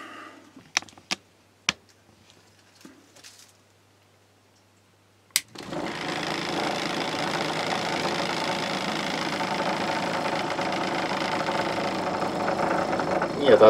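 A few sharp taps and knocks, then a steady, close electric buzz starts up as a vibrating device shakes a silicone mold mixture. The hum holds evenly and swells slightly near the end.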